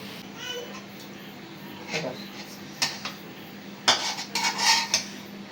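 A metal utensil clinks and scrapes in a pot as hilsa fish is lifted away from its masala. Sharp knocks come in scattered bursts, louder toward the end, over a quiet background with faint voices.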